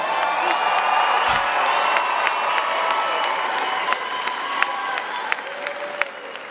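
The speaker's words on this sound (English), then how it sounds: "Yeah, that deserves a round of applause." Applause and cheering from a large commencement crowd at a university graduation, a dense steady wash of clapping with scattered whoops throughout, tapering slightly toward the end.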